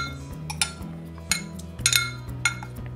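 A utensil scrapes and clinks against a pot while squirrel Brunswick stew is stirred, with several sharp metallic knocks spread unevenly over a low simmering hum.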